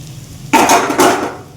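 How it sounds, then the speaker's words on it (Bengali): A metal lid lifted off a pan of frying dried fish with potato and pumpkin, giving two quick close clanks half a second apart, followed by a short ringing sizzle, with no voices. "ঢাকনাটা তুলে ফেলি।"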